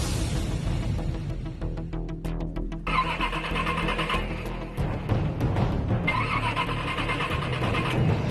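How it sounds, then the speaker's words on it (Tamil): A car engine cranks repeatedly without catching, with bursts of starter whirring separated by short pauses, fairly close and in the open. "ஏதாச்சும் பண்ணி வண்டி ஸ்டார்ட் பண்ணுங்க"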